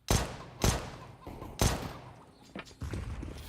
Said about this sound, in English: First round of the day, get some pistol headshots.